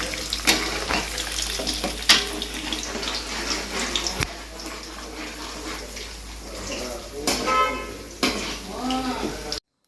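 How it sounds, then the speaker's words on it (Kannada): Ingredients for temple-style puliyogare sizzle and crackle in a frying pan, a steady hiss broken by sharp stirring clatters and spoon knocks against the pan, close and fairly loud. "ಈಗ ನೋಡ್ರಿ ಮಸ್ತಂಗೆ ಫ್ರೈ ಆಗ್ಯಾವ ಆಲ್ರೆಡಿ"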